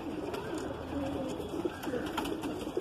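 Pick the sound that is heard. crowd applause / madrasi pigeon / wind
madrasi pigeon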